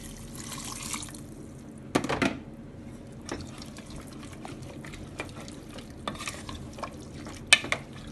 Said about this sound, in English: With that I'm adding little bit water.